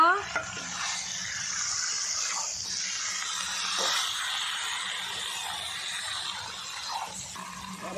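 Water poured into a pan of village-style chicken hisses and sizzles steadily up close, with stirring scrapes and bubbling continuing throughout.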